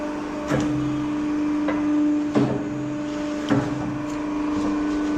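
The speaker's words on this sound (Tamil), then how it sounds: "இது ஒரு ஹைட்ராலிக் மிஷின்" A hydraulic chappal cutting machine runs in a small footwear workshop in Tamil Nadu, giving a steady mechanical hum with a few sharp knocks and clunks spaced several seconds apart, with no speech.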